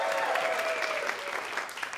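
Theatre audience at an improv comedy show applauding steadily for a performer, a dense wash of clapping that holds evenly throughout with a faint voice briefly audible over it.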